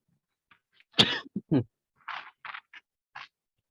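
A man coughs close to the mic during an online coaching session, one strong cough followed by a couple of shorter ones, then several light throat-clearing huffs, with quiet gaps between.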